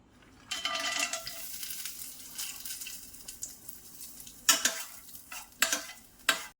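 Ghee sizzles steadily in a pan as halved cashew pieces fry, with a few louder scraping bursts of stirring toward the end.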